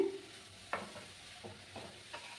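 Grated carrots for laddu stirred in ghee in a pan, a quiet background with a few distinct spatula scrapes and a faint sizzle spaced across a couple of seconds.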